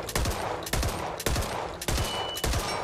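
Five evenly spaced shotgun blasts fire at long range in the video game Back 4 Blood, each one a loud sharp crack with a short tail.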